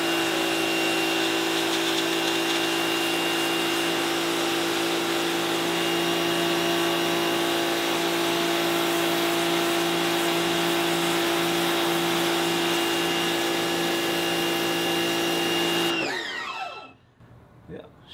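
A Bigzzia pressure washer fitted with the gentle green nozzle runs close by, a loud, steady motor whine layered with hissing spray that holds evenly before cutting off near the end.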